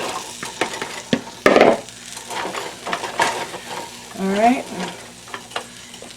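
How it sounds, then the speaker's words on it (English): Potatoes tossed into a previously used, lightly washed pan and frying, with loud, close sizzling, scraping stirs and clinks of utensil against pan, and a brief spoken word in the middle. "So I'm going to throw my potatoes in."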